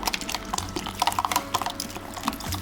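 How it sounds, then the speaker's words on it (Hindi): Water pours steadily into mango puree in a grinder jar, a soft close liquid splashing and trickling with no voices. "अब हम इसमें हस्बे ज़रूरत पानी डालेंगे।"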